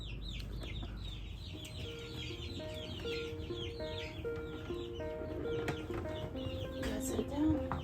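Newly hatched quail chicks hop about in a brooder, giving a steady chorus of high, overlapping peeps and chirps, close and continuous throughout.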